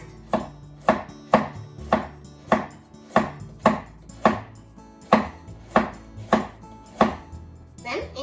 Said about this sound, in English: I want to make very thin strips, so make very thin diagonal slices first.